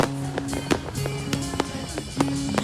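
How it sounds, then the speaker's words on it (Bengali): Fireworks bursting at midnight in Goa, a string of sharp cracks and pops at irregular intervals, several close together, over a steady humming background. "দেখো কত বাজি ফাটছে আকাশে"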